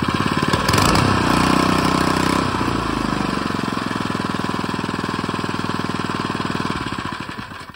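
A 3hp Mud-Skipper Super-Lite long tail mud motor for kayaks and canoes runs close by, a loud buzzing small-engine clatter that revs briefly at the start, then settles into a steady idle before fading slightly.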